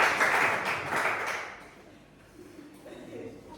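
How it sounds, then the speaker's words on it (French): A church congregation claps to acclaim the Lord, a fairly loud burst of applause that fades within a couple of seconds into a quiet room. "Ah, là, on acclame le Seigneur."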